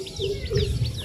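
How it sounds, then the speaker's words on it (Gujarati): Birds call outdoors in short repeated chirps, fairly close, over a low background hum. "મસ્તીનો પક્ષીઓનો અવાજ આવે"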